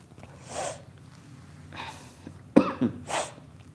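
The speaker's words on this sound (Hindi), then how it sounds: "माफ़ करें भाई, खांसी बहुत ज़्यादा आ रही है।" A few short, sharp coughs close by, bunched together in quick bursts separated by brief pauses, with no talking.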